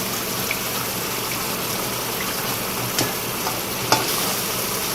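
Chicken karahi masala with tomatoes fries in a wok over a high flame, dhaba style, giving a continuous loud sizzle broken by occasional scrapes and clinks of stirring.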